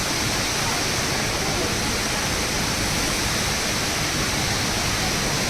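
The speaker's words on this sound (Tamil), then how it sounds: "ஜுவலில் சூப்பர் அட்டகாசமாக தண்ணி விழுக்குது" Falling water from the indoor waterfall at Jewel Changi Airport, Singapore, makes a loud, even roar that fills the whole stretch without a break or any voices.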